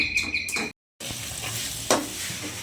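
Onions browning lightly in a pan, a steady close sizzle with brief stirring scrapes, cut by a short silence before the frying resumes.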